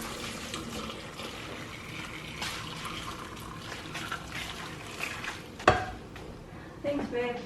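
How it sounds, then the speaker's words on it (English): Beef stock is poured into a cooking pot for birria and stirred, giving a soft, continuous liquid swish with light scraping, a clink of utensil against the pot near the end. "I'm gonna put in the beef stock that just exploded everywhere."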